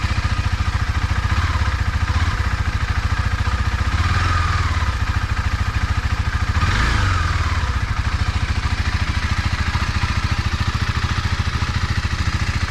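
A 2021 KTM Duke 390 engine warming up, a close, steady idle thrum with rapid even pulses, briefly lifted by a couple of light throttle blips before settling back.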